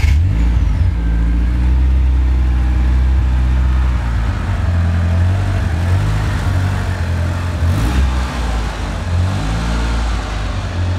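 A car with a MAACO paint job is driven into a shop, its engine giving a steady low rumble close by, with a slight rise in revs partway through.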